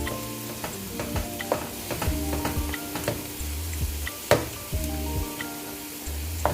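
Meat, chopped into pieces, frying in a pan during a weeknight home cook, with steady close sizzling broken by a string of sharp scraping and stirring knocks from a utensil.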